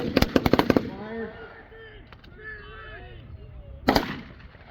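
A patrol fire team opens fire at a wartime reenactment open house. A rapid volley of sharp, loud shots comes first, then a lull with distant voices, then another brief burst near the end.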